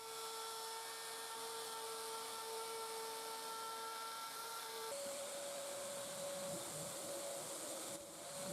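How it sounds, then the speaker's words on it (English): A power sander works over chamfered edges and the outside faces of wormy curly maple coffee table legs with 220 grit, a steady high whine and hiss, loud and continuous with a slight pitch shift midway. "I'm just sanding here all the areas I just put the chamfer on and the outside faces of all the legs"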